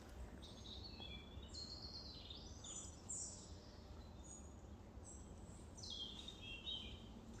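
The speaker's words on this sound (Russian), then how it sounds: "Птички поют." Several small birds chirp and sing outdoors, faint high calls scattered across a quiet, distant background with no voices.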